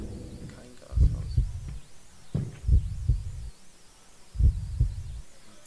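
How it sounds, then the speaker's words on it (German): In the horror game Dungeon Nightmares, a deep heartbeat thumps in paired beats, three heavy double pulses spaced a couple of seconds apart over a low eerie ambient drone. "Das ist unser Herzschlag."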